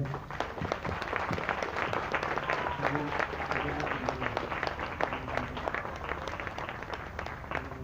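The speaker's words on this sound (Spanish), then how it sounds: "Un aplauso para ella." Sustained applause from a church congregation, dense steady clapping that carries on the whole time, with a few voices mixed in.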